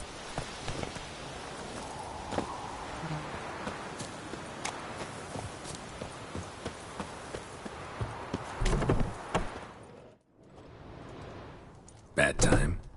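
Horse galloping in The Witcher 3, with steady, rhythmic hoofbeats clopping over ground for most of the stretch, a brief quiet gap, then a louder burst near the end over soft ambient background.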